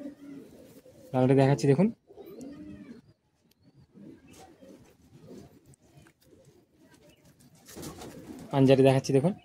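Madrasi high flying pigeons coo in two loud, close bursts of rolling calls at the start and end, while someone talks between and over them.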